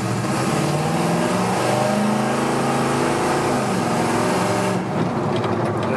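Engine of a 1975 Chevy K10 4x4 Stepside shortbed pickup accelerating in gear, a loud steady close-up drone with rising harmonics for most of the run, easing off near the end.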